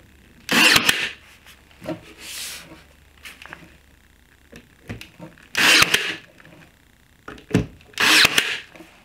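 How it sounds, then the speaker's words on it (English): Power drill driving wood screws into wood, several separate loud whirring bursts of a second or so each, with quiet gaps and small handling noises between them. "I'm gonna drive these screws in, these wood screws."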